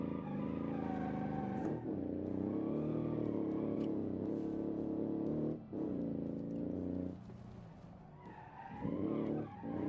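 A 1960s sports car engine revs hard and sustained, tyres skidding as it drifts, loud and close with brief dips between pulls and no talking.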